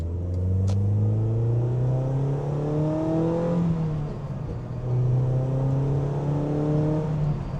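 A Mazda NC Miata pulls away and accelerates through the gears, its engine note climbing steadily, dipping briefly at a shift and then rising again, with a close, continuous rumble and no talking.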